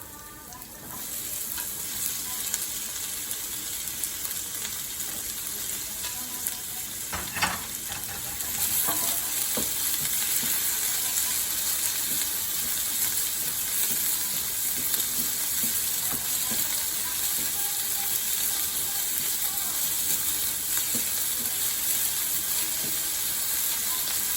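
Small onions and tomato sautéing in coconut oil on a stove make a steady, close sizzling hiss that runs the whole time, with occasional stirring scrapes and a slight rise in intensity partway through.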